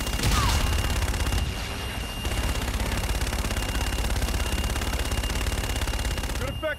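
Gunship gun-run fire in the video game Infinite Warfare: a loud, sustained stream of rapid heavy gunfire rattles on for several seconds and cuts off near the end, with some voice chatter under it.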